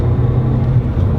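Audi TT Mk1 quattro driving on narrow mountain pass roads, its engine a steady, fairly subdued low rumble heard from inside the car, without rises or peaks and with no voices.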